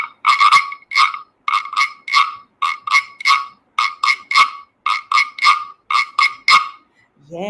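A handheld toy frog croaker imitates a croaking frog with a long run of loud, evenly spaced rasping croaks, often in quick pairs, sounding close and alone.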